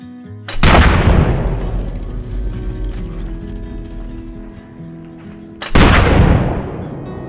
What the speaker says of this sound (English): it was a good shot, the first shot, and luckily the second one we got into the heart while he was charging